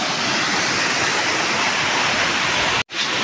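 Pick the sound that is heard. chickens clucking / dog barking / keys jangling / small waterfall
small waterfall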